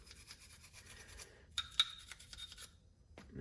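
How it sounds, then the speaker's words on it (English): A small kids' toothbrush scrubs a CZ 75 Compact pistol, with quick rasping strokes in short bursts close up and a brief pause before a final scratch. "You can just give this a good scrubbing."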